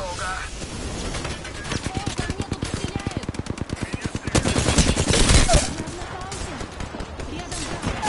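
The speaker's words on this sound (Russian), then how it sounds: "О, ко мне тут стреляют." Gunfire in the video game Apex Legends: rapid automatic bursts ring out repeatedly, loud and close, with a heavier burst near the middle, over game sounds and with a person talking in places.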